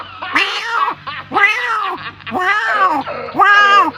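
A human voice mimics a kitten's meows: four drawn-out, high, wavering cries in a steady rhythm, close and fairly loud, with short gaps between.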